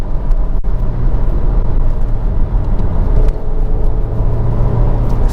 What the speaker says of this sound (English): Okay, so third gear this time, and lots of torque.